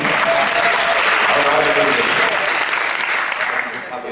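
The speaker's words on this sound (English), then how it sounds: "a little applause for the girl who keeps running around with the microphone" Audience applause at a live interview event with violinist David Garrett, a dense, steady wash of clapping that stays loud throughout and eases slightly near the end.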